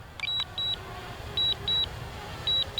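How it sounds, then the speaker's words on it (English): A DJI Mavic Mini drone gives short electronic beeps that repeat in pairs at an irregular pace, sharp and high-pitched, over a low rumbling background hum. "you can hear the beeping"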